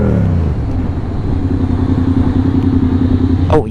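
A 636 motorcycle engine runs close and loud at a steady idle, its deep throbbing rumble unbroken throughout, ending in a short sharp transient.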